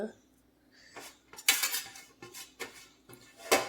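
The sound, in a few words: spoon stirring grated coconut into millet upma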